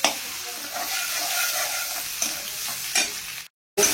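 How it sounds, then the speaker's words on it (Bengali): Onion tempering sizzles in hot oil for a gurjali fish curry, the fish already fried crisp. A steady close hiss with soft stirring scrapes runs for about three seconds, then a brief silent gap before the sizzle returns. "চলো এবার ফোড়ন দিই। গুড়জালি মাছ কিন্তু পেঁয়াজ ফোড়ন দিয়েই করে।"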